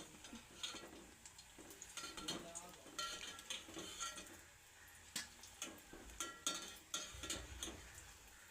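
Mysore bondas fry in oil over a low-to-medium flame. A quiet sizzle runs under repeated utensil scrapes and clinks as the batter is stirred and turned in the pan.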